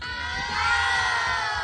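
A crowd of children at a summer youth-camp festival shouting and cheering together in one loud, sustained burst.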